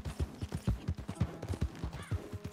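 Horse hooves clip-clop at a steady walking rhythm in the video game Red Dead Redemption 2, a quiet, even run of dull thuds continuing throughout.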